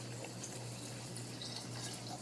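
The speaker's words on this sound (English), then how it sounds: "we're going to pour the brine over the pepper" Salt brine poured over chili peppers for a ferment, a steady low splashing trickle of liquid running continuously at close range with no voices.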